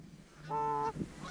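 Geese honk during a hunt, with one clear, fairly close call and a fainter honk just after against a quiet background.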